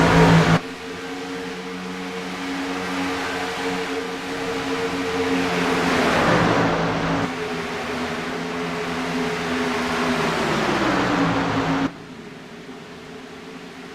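Race trucks running in a tight pack on a track, a loud sustained engine drone with pitch rising and falling as they pass, cutting off abruptly near the end.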